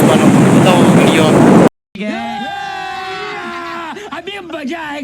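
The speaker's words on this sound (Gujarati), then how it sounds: "જોવો છો તમે કેટલો મોજો થઈ ગયેલો છે એ જુઓ." Rough seas and strong wind hit Katpar beach under a storm warning, roaring as loud broadband noise for a moment before cutting out; afterwards, a voice speaks over lighter background.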